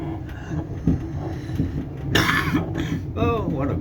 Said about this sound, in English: Oh, what a good cough that was.